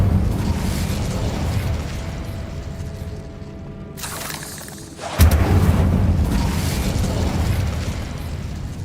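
A fire spell cast in the Hogwarts Legacy video game inside a decayed catacomb, with a rumbling roar followed by a sharp whooshing burst and a loud fiery blast that trails off into crackling noise.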